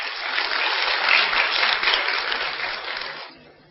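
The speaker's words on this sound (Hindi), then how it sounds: "अरे थोड़ी ताली नहीं बजाओ, डबल बजाओ।" A hall audience at a spiritual gathering breaks into loud, dense applause that holds steady for about three seconds before quickly dying away.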